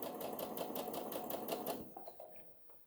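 A sewing machine stitches a child's dress in a brisk, evenly pulsing run of needle strokes that stops abruptly, leaving a few faint clicks and handling noises.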